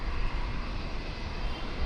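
A steady, loud roar of airliner engines taxiing at Brisbane Airport, an unbroken rumbling drone with no talk.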